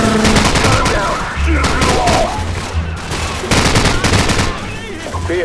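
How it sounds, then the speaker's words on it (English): Machine gun fire in Call of Duty 4: Modern Warfare, loud and near, in rapid bursts of sharp shots broken by short pauses, with a voice speaking now and then between the volleys. "Machine gun."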